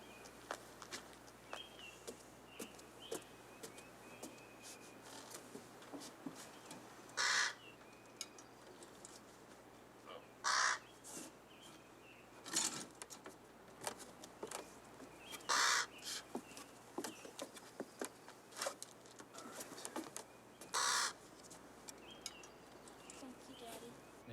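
Raven calls in an outdoor setting in Alaska, several loud harsh caws spaced a few seconds apart over faint background noise and occasional footsteps.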